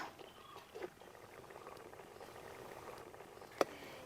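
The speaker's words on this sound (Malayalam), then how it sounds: "ഇപ്പം നമ്മുടെ തേങ്ങാപ്പാൽ കറിയൊക്കെ നല്ല തിളച്ച് വന്നിട്ടുണ്ട്" A coconut milk egg curry simmers at a low, steady boil, giving soft, continuous bubbling with faint pops throughout, plus one sharp brief click near the end; no one speaks.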